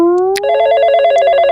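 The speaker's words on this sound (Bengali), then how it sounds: "1 মিনিট দাঁড়ান, আমার একটা ফোন আইছে।" A telephone rings loudly and close by with a steady electronic ringtone that repeats in quick pulses, alone with no talk.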